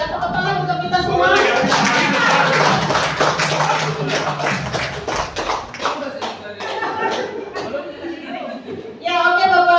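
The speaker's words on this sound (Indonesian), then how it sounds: "tepuk tangan untuk kita semua" Audience of teachers applauding during a positive school culture session, a burst of uneven clapping with chuckles and chatter mixed in, tapering before a voice resumes speaking.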